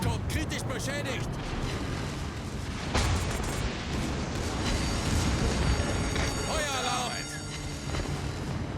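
Secondary guns of the battleship Grosser Kurfürst firing in World of Warships, heavy booming shots and rumbling blasts over a loud battle din, with someone talking over parts of it.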